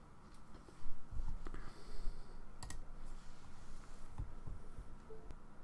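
Scattered clicks and taps of typing on a computer keyboard, close and fairly quiet, in irregular short bursts with pauses and no talking.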